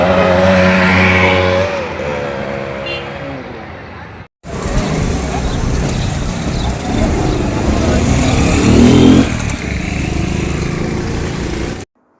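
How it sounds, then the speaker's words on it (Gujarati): Motorcycles ridden with their silencers removed outside high schools in Mahuva and Vasfoi, Surat district, give a loud, continuous unmuffled engine roar with revving surges, broken by a brief drop-out midway, with voices mixed in. "બાઇક સવાર સાયલેન્સર કાઢીને ફરતા રોમિયો"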